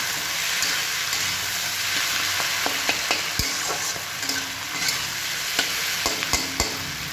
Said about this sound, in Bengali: দিয়ে আমি এগুলোকে মিক্স করে নিচ্ছি, যাতে সসগুলো সবজির গায়ে ভালোভাবে লেগে যায়